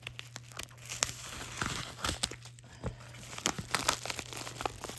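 Someone tears into a heavily taped Temu package, a close run of rapid crinkling plastic and sharp tearing rips in irregular bursts, loud and without speech.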